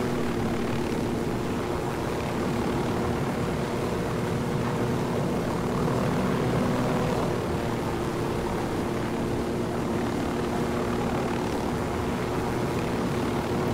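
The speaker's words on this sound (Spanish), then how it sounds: "Un helicóptero allí, vamos a esquivarlo." Rotor and engine drone of a helicopter flying in the video game Ghost Recon Wildlands, a steady continuous hum mixed with other aircraft engine noise throughout.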